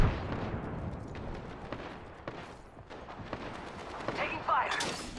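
Rapid gunfire in the battle royale shooter Apex Legends, a dense string of close, sharp shots crackling through a busy combat mix, with in-game voice callouts over it and a louder burst near the end.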